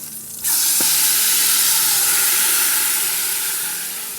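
Biryani ingredients hit a hot electric pressure cooker on sauté mode, bursting into a loud, sudden sizzle that hisses steadily and slowly fades, with no talking over it.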